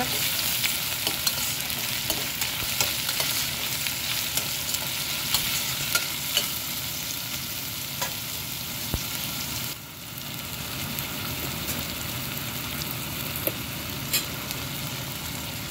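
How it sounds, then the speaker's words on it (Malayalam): Chicken curry in a frying pan, sizzling continuously and close up while a spoon stirs it with frequent light scrapes and clicks over the full stretch, no talking. "ഇളക്കി കൊടുക്കുക"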